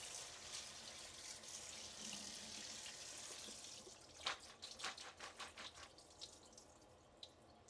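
Tap water runs steadily while peas are rinsed in a kitchen sink, then gives way to a string of light drips and splashes toward the end.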